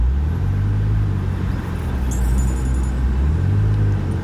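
The engine of a 2001 Porsche 911 Carrera 4 (996) holds a steady, close, deep rumble at an even level throughout, with no voices.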